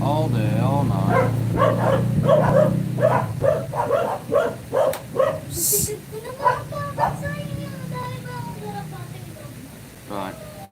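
Several dogs bark in a rapid series of loud, close woofs that trail off into scattered yips and whimpering, over a steady low hum, before fading to quiet.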